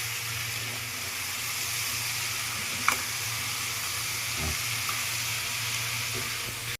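Potatoes fry in a pan during wedding-style cooking, a steady broad sizzle running throughout at moderate level with a low hum beneath and an occasional faint clink.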